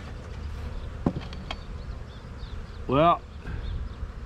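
Honey bees buzz faintly around a queen-right starter hive during installation, with a brief close bee drone passing near the microphone, while a person speaks a word.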